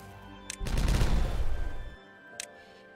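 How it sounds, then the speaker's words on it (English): Triple dynamite detonating in a building game: a sharp crack followed by a loud, rumbling blast that roars for over a second before cutting off, with a brief click before and after. "Well, triple dynamite doesn't hurt. This can now also be detonated."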